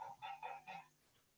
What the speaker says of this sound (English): I think I can hear the parrot in the background.